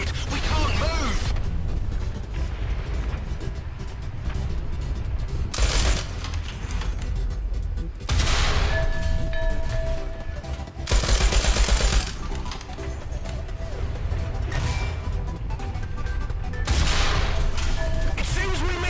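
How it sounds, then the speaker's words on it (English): Tank cannon and machine-gun fire in the War Thunder video game, several loud broadband blasts and bursts spread over a steady mechanical engine rumble, with voices talking throughout. "They're already shooting at us, Chris."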